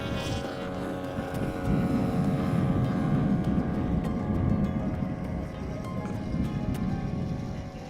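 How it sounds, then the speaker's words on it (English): A subscale UAS aircraft engine starting at a flight test, a steady loud engine drone with a rough, buzzing texture that holds throughout, with wind noise and brief voices in the background. "Engine start."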